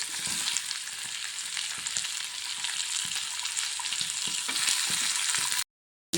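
Chopped onions and tomato sauté in a pan for butter chicken, giving a steady, close, loud sizzle with faint scraping stirs throughout, then cutting out briefly near the end.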